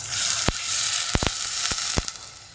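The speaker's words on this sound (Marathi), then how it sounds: "तर इथे मी टाकते आता दूध" Milk goes into a hot pan of oil-fried coconut and dry fruits for kheer, giving a steady broad sizzle with several sharp pops and crackles scattered through it, close and fairly loud with no talking.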